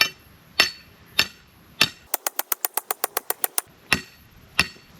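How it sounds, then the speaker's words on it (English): Back of an axe tapping a stake into soft ground beside a campfire: sharp wooden knocks, a few spaced strikes, then a rapid run of about twelve even taps, then more spaced blows, close and clear. "You tap that into the ground with your hammer very carefully, or in my case, going to use the axe, the back of the axe."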